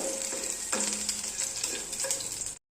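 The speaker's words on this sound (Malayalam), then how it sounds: "അതുകൂടെ നമുക്കൊന്ന് വഴറ്റിയെടുക്കാം കരിഞ്ഞു പോകരുത് വറ്റൽമുളക്" Dried red chillies sautéing in a pan with a steady close sizzle and frying crackle, a few scraping stir sounds, then a sudden cutoff at the end; no speech.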